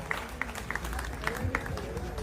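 An audience clapping for a performer, scattered and uneven hand claps with a few sharper individual claps standing out, fairly quiet over low background rumble.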